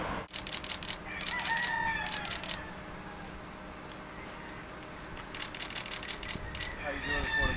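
Roosters raised for cockfighting crow repeatedly in the background, several overlapping calls at a distance, with camera shutter clicks and steady outdoor ambience.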